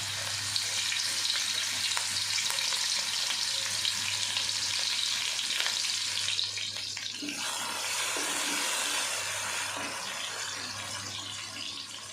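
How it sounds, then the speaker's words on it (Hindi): Finely chopped garlic and ginger sauté with whole cumin in a pan, giving a loud, steady sizzle and crackle. The hiss eases a little partway through, and a few faint stirring scrapes come through with no talk. "लहसुन हमारा अच्छे से सौते हो गया।"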